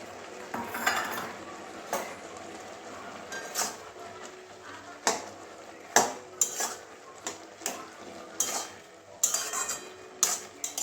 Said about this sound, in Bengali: ধনে পাতাটা ভালো করে মিশিয়ে নিচ্ছে